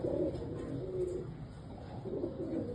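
Pigeons of an Andhra breed cooing close by, soft low rolling coos repeating in two or three phrases, no talking.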